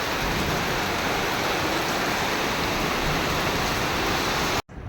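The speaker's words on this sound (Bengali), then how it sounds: "এই পাশ দিয়ে বৃষ্টি শুরু হয়ে গেছে।" Steady rain pours over a Bengali village, a dense, continuous hiss that stays loud and even throughout, then cuts off abruptly just before the end.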